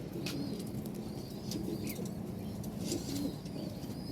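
Pigeons kept in a loft coo softly in a low, steady murmur, with occasional wing flaps and faint chirps over continuous background noise.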